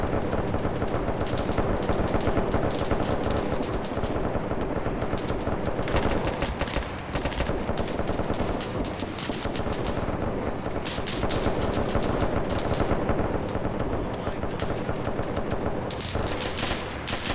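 A war video game battle between ANZAC and Italian forces in Ethiopia rages with dense, continuous gunfire: rapid machine-gun bursts and overlapping rifle shots, loud and sustained, with occasional heavier blasts standing out.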